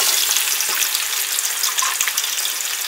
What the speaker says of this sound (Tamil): ஸோ இந்த ஸ்டேஜில் வந்து நம்ம பொடிசாக கட் பண்ணி வச்சுருந்தா 2 மீடியம் சைஸ் வெங்காயத்தை இதில் வந்து சேர்த்துக்கலாம்.